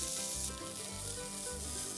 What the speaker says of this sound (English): So I've been stir frying the beans and the peas for about 4 minutes